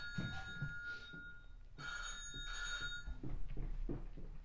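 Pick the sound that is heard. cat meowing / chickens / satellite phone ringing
satellite phone ringing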